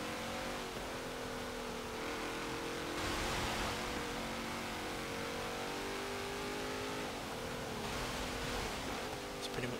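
A 2009 Mercedes-Benz ML 63 AMG engine revs steadily under load in Forza Motorsport 7, a continuous mid-pitched drone that rises slightly in pitch over about ten seconds, fairly even in loudness and without speech.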